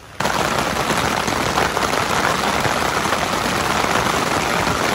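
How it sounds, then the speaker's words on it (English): Heavy rain drums hard and constantly on a taut surface close by, a dense, loud rattling roar that starts abruptly and never lets up. "I'm having to shout because it's really pelting down"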